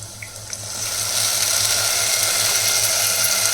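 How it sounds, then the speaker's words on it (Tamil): Tamarind solution poured into hot oil in a pan: after a faint moment, a loud, close, steady hiss and sizzle rises at about one second and holds evenly to the end, with no talk. "எண்ணெயில் புளி கரைசல் ஊற்றிடலாம்"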